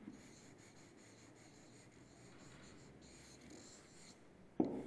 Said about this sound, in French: Alors on va écrire.